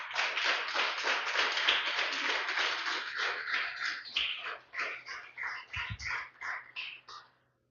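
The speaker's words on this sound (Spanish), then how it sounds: "Denle un fuerte aplauso al Señor, aleluya." A church congregation gives a round of applause, starting as fast, dense clapping that breaks into slower, distinct rhythmic claps with brief gaps before stopping abruptly.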